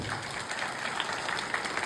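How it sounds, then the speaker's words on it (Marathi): Crowd applause at a devotional kirtan gathering, a steady wash of many hands clapping together, moderately loud and continuous throughout without pause. "सगळ्यांनी एकदा टाळी वाजून स्वागत करायचं सगळ्यांचं"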